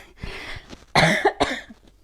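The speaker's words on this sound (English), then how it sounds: "When I talk too much, I start to cough." Several harsh coughs from a yoga instructor close to the microphone during a class, a short burst of three or four rough barks after a faint breathy sound.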